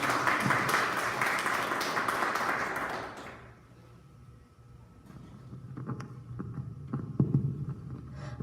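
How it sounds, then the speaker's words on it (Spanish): An audience applauds a presenter at an education research session, full clapping for about three seconds that stops abruptly, followed by a low hum and scattered faint room noises. "Pido para la compañera fuertes aplausos"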